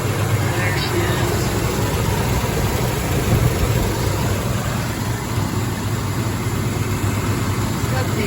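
A 1968 Plymouth Valiant fitted with an AVS carburetor idles after a hot start on a 90-degree day, a steady low engine rumble heard close and continuous with no talk.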